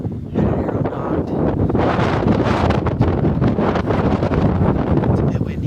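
Steady, loud wind buffets the microphone outdoors during a mule deer bow hunt, a continuous roar with gusty swells that runs the whole time and nearly drowns out everything else.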